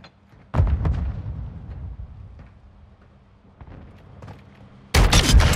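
Shotgun slug shots in a first-person shooter game, two heavy booming blasts, one early and one near the end, with faint scattered noise and a quieter stretch between them.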